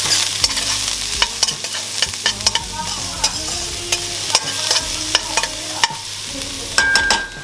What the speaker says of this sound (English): we're gonna give it a nice and good mix